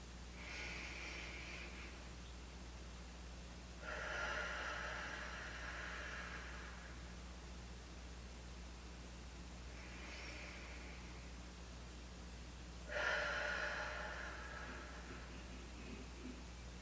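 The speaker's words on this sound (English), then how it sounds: "we're going to take 2 more deep breaths together" Slow, deep breaths taken during a guided meditation: two long, airy inhale-exhale cycles, each a soft rush lasting a couple of seconds, heard close over a low steady hum.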